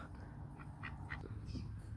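A Peking duck in a backyard gives a few short, nasal quacks. They sound faint and somewhat distant over low background noise.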